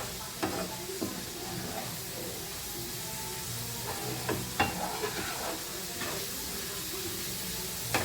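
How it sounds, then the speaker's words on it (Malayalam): Cooked long beans frying in oil in a pan, with a steady hissing sizzle throughout and small scraping clinks of stirring scattered over it. "കുറേശ്ശെ എണ്ണ ഒഴിച്ച് ഫ്രൈ ചെയ്തെടുക്കാം"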